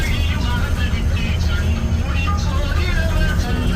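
Bus travelling along a road in Tamil Nadu in the early morning, heard from inside the cabin as a steady engine drone and road rumble, with faint voices or music over it.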